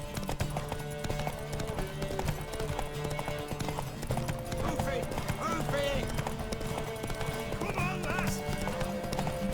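In The Witcher 3, a horse's hooves pound in a fast, steady gallop with a whinny mixed in, loud and close over dense game music and voices.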